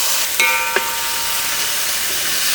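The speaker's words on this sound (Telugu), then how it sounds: "ఈ ఉల్లిపాయ ముక్కలు బ్రౌన్ అయ్యే వరకు వేయించుకోవాలండి" Onion pieces frying in hot oil with whole spices for a biryani, a close crackling sizzle with a couple of sharp utensil clinks near the start.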